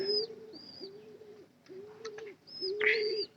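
Pigeons in a coop giving soft, low rolling coos in a slow repeating rhythm, close and fairly quiet, with a few faint chirps and light rustles between calls.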